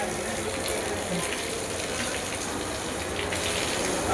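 A stream of cold water runs steadily for washing hands and feet, a close continuous gushing splash with no pauses.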